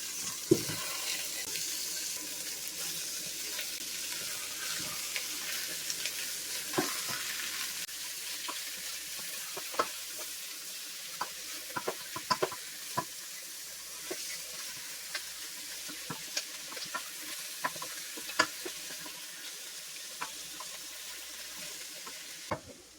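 Chicken leg sautéing with garlic and onions in oil in a pan, a steady broadband sizzle throughout with scattered sharp clicks and taps from stirring, no talking.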